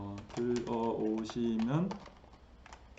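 Light clicks of typing on a computer keyboard come in quick taps under a person speaking Korean close by.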